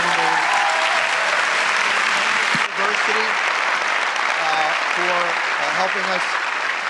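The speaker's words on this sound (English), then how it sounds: "Let's give them a nice round of applause for being here" Loud sustained applause from an audience thanking a distinguished panel at an event with Jon Stewart and the cast, dense clapping filling the room throughout while someone speaks over it.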